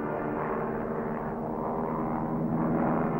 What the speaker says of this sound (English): That plane going by made the mine start rising for a moment.